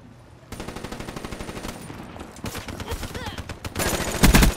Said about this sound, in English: So with this gun, you will see it does have a very fast fire rate